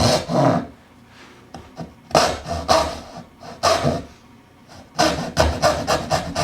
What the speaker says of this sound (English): I'm going to cut the half pin here with the saw at an angle.